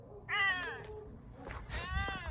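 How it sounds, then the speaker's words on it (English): A cat meows twice nearby, a rising, whining first call followed after a short pause by a second, slightly longer one, with faint background noise between. "There's literally a cat right there."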